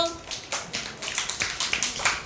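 Children clap in a fruit-name game, a close series of crisp, evenly spaced hand claps that continue steadily throughout, with faint voices underneath.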